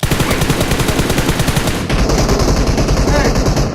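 Rapid automatic gunfire in the PUBG Mobile video game, a close, loud burst of machine-gun shots followed by a second, heavier stretch of firing.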